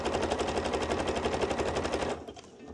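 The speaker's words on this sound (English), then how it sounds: "I'm going to press my sewing foot and then I go back to lock my stitch and then I go down." A sewing machine stitches fabric for a dress in a rapid, steady mechanical rattle close by, then slows and stops near the end.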